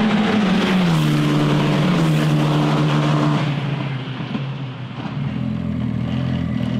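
An F4 single-seater race car on track, its engine note loud and steady with rising and falling pitch as it shifts through gears, then easing slightly before building again; no talk.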